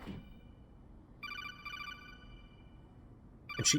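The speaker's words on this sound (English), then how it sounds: "Can she hear the phone ring?" A telephone ringing in the video game Metal Gear Solid: The Twin Snakes, a steady electronic ring tone lasting a couple of seconds after a soft thud, with a sharper clatter at the end.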